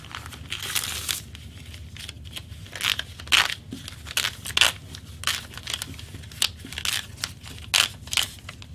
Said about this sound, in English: So go ahead and trim all of your units and remove all of the papers.